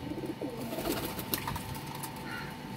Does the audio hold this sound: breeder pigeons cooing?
yes